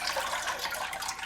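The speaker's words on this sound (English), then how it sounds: "Then rinse under cold water and put the noodles aside." Cold tap water runs steadily over cooked pho rice noodles being rinsed in a kitchen, a close, even hiss of splashing water with no voices.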